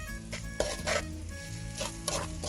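Boiled eggs sizzle in hot oil in a pan while a spoon stirs and scrapes them, with short clatters of utensil against metal over a steady frying hiss.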